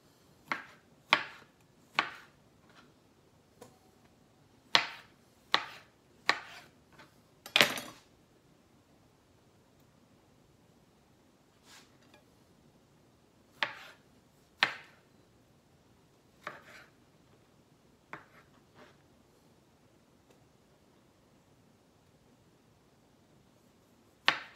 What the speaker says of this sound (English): I'm going to cut up some more tomatoes